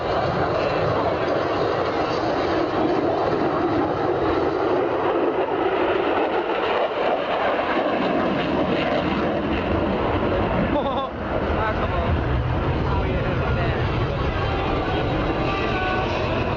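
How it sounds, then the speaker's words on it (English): An SR-71 Blackbird jet thunders past at an airshow in a long, sustained, loud roar that swells and lingers, with faint talk underneath. "This is the SR-71 Blackbird."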